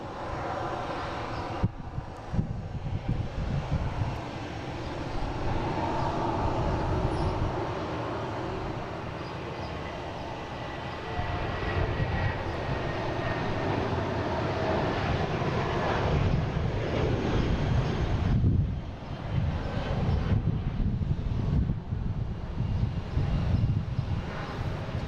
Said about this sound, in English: There goes that American Airlines, another A319, 1147 heading to Philly.